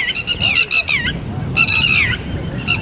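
Loud honking bird calls ring out in bursts at a ruined, overgrown school in Palaly, Jaffna, harsh repeated cries close by with a short pause between groups.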